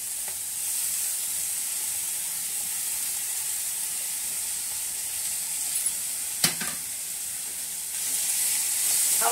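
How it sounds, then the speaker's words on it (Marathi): Grated gooseberries (amla) sizzling in a hot pan with hing and chillies, a soft, steady frying hiss with a brief clatter partway through and a slight rise in sizzle near the end, no voices. "आतां हे आवळ घालता"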